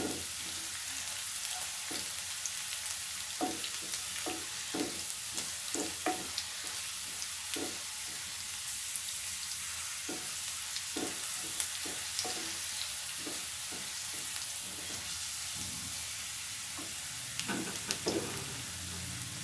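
Vegetables for veg fried rice stir-fry over a high gas flame, a continuous hissing sizzle with frequent light clicks and scrapes of the spatula against the pan throughout, heard up close with no one talking.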